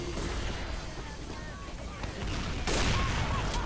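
Gunfire from a first-person shooter video game, a continuous busy battle texture with sharp shot bursts that grow louder near the end, heard fairly close amid other game noise.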